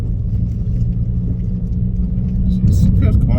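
A Volkswagen Golf Mk5 family hatchback drives along a road, its steady engine hum and tyre rumble running continuously beneath a voice talking.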